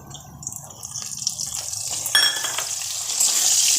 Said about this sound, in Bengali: এটা পেঁয়াজটাকে একটু ভাজবো